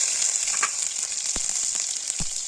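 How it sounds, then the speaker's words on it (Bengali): Tomatoes drop into hot oil in a pan after fish has been fried, giving a steady, close hiss of frying with a couple of soft low bumps from the pan. "মা ফার্স্টে টমেটোগুলো তেলের মধ্যে দিয়ে দিচ্ছে।"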